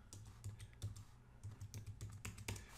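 Quick, quiet typing on a computer keyboard while entering a file name, a close, uneven patter of key taps with brief pauses.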